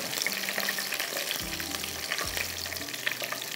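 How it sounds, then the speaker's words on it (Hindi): Chopped garlic fries in oil in a pan for a chicken spaghetti recipe, giving a steady close sizzle with light stirring scrapes throughout. "ये हो गया हमारा लहसुन फ्राई और इसकी खुशबू आ रही है।"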